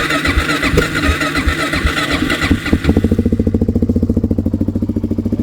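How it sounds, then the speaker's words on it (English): A Suzuki DRZ400 motorcycle with a cheap Chinese FCR carburetor cranks on choke for a few seconds, then catches and settles into a loud, steady, rapid single-cylinder idle. "Pull the choke out. Let's see if she starts."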